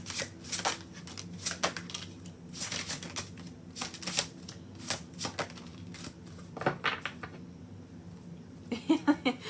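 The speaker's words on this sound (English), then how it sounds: "this deck is like so big, it's hard to shuffle." An oversized deck of oracle cards riffled and shuffled repeatedly in short crisp bursts, close up, with brief pauses between shuffles and a faster flurry at the end.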